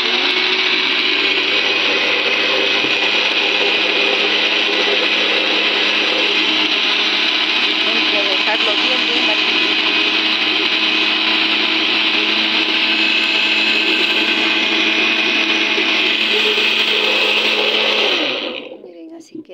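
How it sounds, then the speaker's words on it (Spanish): Blender running continuously on a mandarin juice smoothie for cholesterol, a loud, dense whirring roar that holds steady for nearly twenty seconds before cutting off abruptly at the end. "Mira, ahora sí lo vamos a licuar."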